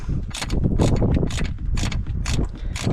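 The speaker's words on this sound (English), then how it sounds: "So we just take the ratchet in there, put it on." Ratchet clicking rapidly in short bursts while undoing plastic bolts on a Vauxhall Corsa, a close, steady ratcheting with brief pauses between strokes.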